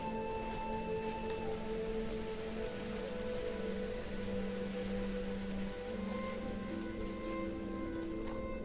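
Soft, steady rain patters in the Songs of Syx city-building game, quiet and continuous beneath sustained tonal game music.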